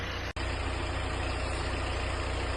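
An Audi Q3 engine holds a steady, raised rev during a DSG gearbox oil change, a continuous loud mechanical drone with one brief cut near the start and no talking.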